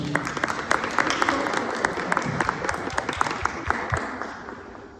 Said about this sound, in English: big round of applause for Anna